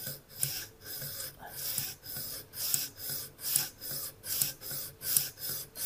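A convex knife blade is sharpened on a TSPROF guided sharpening system, the abrasive rasping across the steel in steady, rhythmic strokes, roughly two per second, close and clear with no talking.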